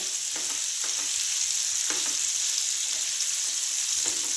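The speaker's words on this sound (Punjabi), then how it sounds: "ਇਸ ਨੂੰ ਲੋ ਫਲੇਮ ਤੇ ਹੀ ਲਗਾਤਾਰ ਚਲਾਉਂਦੇ ਰਹਿਣਾ ਜੀ ਸਪੈਚਲਾ ਨੂੰ" Amla (Indian gooseberry) chutney sizzles in a pan over a low flame while a spatula scrapes and stirs it, giving a steady close-up crackle with periodic soft scraping strokes.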